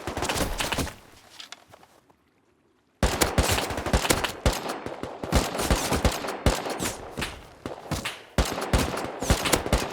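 Rapid rifle gunfire from an online survival game set in an arctic base, loud sustained bursts and volleys filling most of the stretch, broken by a brief near-silent pause before the shooting resumes.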